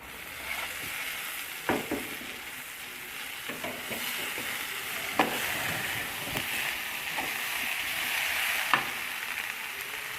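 Tomatoes, spring onion and bird's eye chili stir-frying in a pan over steady sizzling, with scattered scrapes and clicks of stirring throughout.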